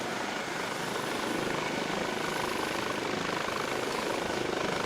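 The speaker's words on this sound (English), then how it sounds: "I think we have engine revs." A Eurocopter HH-65 Dolphin air-sea rescue helicopter in Flight Simulator X revs its engine in a loud, steady, dense rotor-and-turbine roar that swells slightly and holds without pause.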